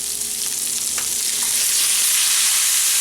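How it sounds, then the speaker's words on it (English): Ground meat browns in a pan for homemade lasagna, giving a steady, dense sizzle and crackle that stays loud and close throughout, with no talking. "meat is looking pretty browned"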